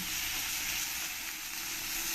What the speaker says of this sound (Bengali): মাছগুলো একটু কড়া কড়া করেই ভাজতে হবে